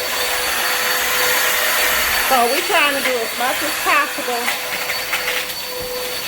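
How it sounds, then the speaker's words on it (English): A heavy-duty vacuum cleaner works over smoke-damaged carpet after a house fire, a loud, continuous whine and roar that runs throughout, with a person talking over it partway through. "So, boy, this is a heavy duty vacuum cleaner."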